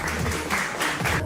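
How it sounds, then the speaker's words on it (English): Brief burst of audience applause on a call-in talk show, scattered clapping of moderate loudness. "Clap it up for Kim Clayson."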